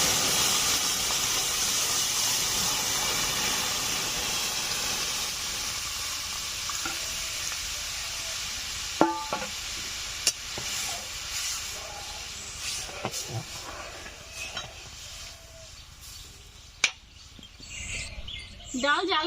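Mung dal lentils dry-roasting with whole white cumin in a pan, a steady soft sizzle and hiss that gradually fades, broken by a few sharp scrapes of a spoon stirring.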